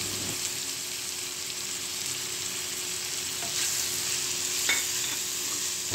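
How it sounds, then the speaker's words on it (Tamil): Steady sizzling of egg curry with chili powder frying in a pan, with occasional soft scraping as it is stirred, no talking. "இந்த மாதிரி நல்லா கிளறி விடுங்க"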